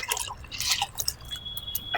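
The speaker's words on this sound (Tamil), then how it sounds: "ஃபஸ்ட்டு அந்த வாழைக்காய் தண்ணி நம்ம ஊற்றிட்டோம் இதில் கலந்து" Homemade fertilizer solution of mango and banana soaked in water trickles and drips into a container on a terrace garden, a brief close splashing pour with no talk.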